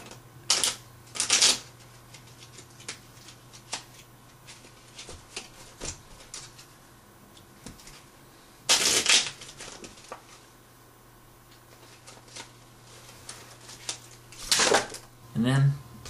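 Playing cards handled at a table: several short riffle-shuffle bursts spaced apart, with soft taps and card flicks between them and a low steady hum underneath.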